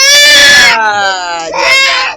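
A child cries loudly and close, a high wailing sob that dips briefly then rises again in a second strained burst, filling the short moment.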